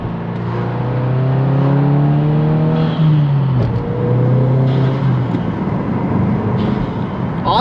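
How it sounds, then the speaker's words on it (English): A 2022+ Subaru WRX with its stock diverter valve and a Perrin front-mount intercooler revs loudly up close, with rising engine tones, then lets out a brief whooshing release as the revs drop before pulling again. "The stock diverter valve sounds so weird in these things."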